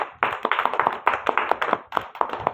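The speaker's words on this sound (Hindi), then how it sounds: "सब ताली बजाओ" Children in a classroom clap together in quick, fairly even bursts of sharp hand claps, close and loud, with brief gaps between groups of claps.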